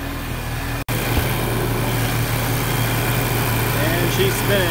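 A 2.0T Audi VW TT Mk2 GTI engine idles with its radiator cooling fan running, a steady close hum with a low tonal drone, broken by a single sharp click early on.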